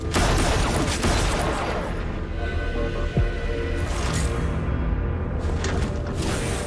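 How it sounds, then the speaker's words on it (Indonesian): Dense, continuous rattling gunfire fills the scene, with a sharper single crack partway through and whooshing bursts near the end, loud and sustained. "Tri langsung melepaskan tembakan ke tubuh mantan rekannya tersebut."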